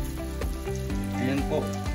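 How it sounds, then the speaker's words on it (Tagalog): Flour-dusted salmon sizzling in hot butter in a frying pan, a steady crackling fry close up with faint background music and no talk. "Mainit na po yung butter natin, ilagay na po natin itong salmon."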